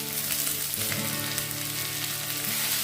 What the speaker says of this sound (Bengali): পেঁয়াজ রসুন কাঁচা লঙ্কা সমস্ত কিছুকে বেশ খানিকটা ভেজে নেব, একটু লালচে করে ভেজে নিতে হবে